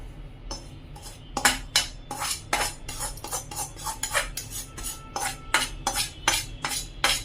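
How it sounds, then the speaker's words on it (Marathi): Roasted semolina, fried with vegetables, is scraped and spooned from a pan into a wok, giving a steady run of close metal spoon scrapes and clinks against the pan. "रवा फ्राय केला होता तो एका कढईमध्ये काढून घेऊया"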